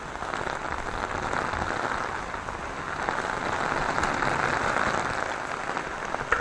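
Rain falls steadily in a continuous, close rushing patter on surfaces, with no talk heard.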